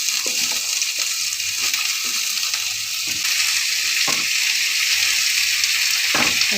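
Tomatoes, curry leaves and mint sauté in a pan for a chutney, giving a steady, close broadband sizzle with a few scattered soft scrapes of stirring throughout.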